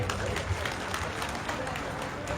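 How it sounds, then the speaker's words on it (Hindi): Rally crowd at a Karni Sena gathering bursts into continuous clapping, a broad, fairly distant wash of applause with voices mixed in. "एक बार जोर से राजनाथ जी के लिए ताली बजा दो।"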